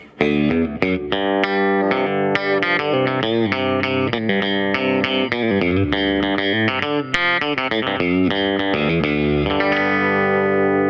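A distorted, down-tuned electric guitar plays a busy solo of quick notes and bends, loud and continuous, with heavy effects and no voices.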